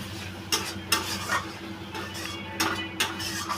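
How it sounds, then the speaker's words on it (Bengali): A spice paste with Kashmiri chilli sautéing in a pan, stirred in bursts of scraping spatula strokes over a low, steady sizzle, close and fairly quiet. "এবার এইটাকে একটু কষে নেব হালকা আছে"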